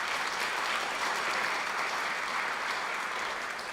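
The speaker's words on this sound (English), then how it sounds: "Let's give them a round of applause." Audience applause at an 80th birthday afternoon celebration for an arts venue, steady and sustained clapping from a full room with no voices over it.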